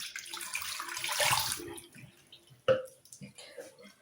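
Water from defrosted tocino is poured out into a sink, a close splashing gush followed by a sharp drip and quieter trickles, with a voice speaking in the background.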